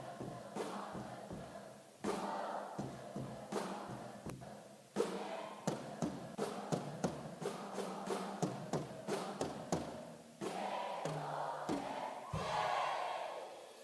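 A camp crowd chants its slogan loudly in rhythmic unison, sharp syllables punched out in a steady beat with scattered thumps, the massed voices swelling toward a final cheer.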